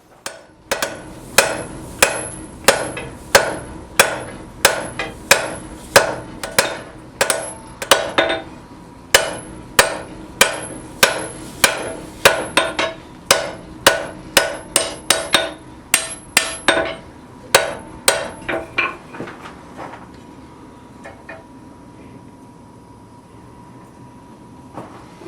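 Hammer blows forging a hot steel bar into a hammerhead shape, about thirty loud ringing strikes in a steady rhythm, each with a bright metallic ring, fading to a lingering hum near the end.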